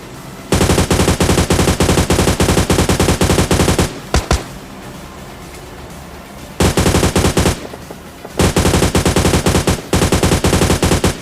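Rapid automatic gunfire from the battle-royale game PUBG Mobile Lite, loud sustained bursts separated by a couple of short lulls with scattered single shots, no voices over it.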